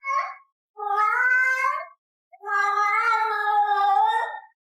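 A pet cat meows three times in close succession, the first cry short and the next two long and drawn out, loud and near with clear gaps between them and no talking.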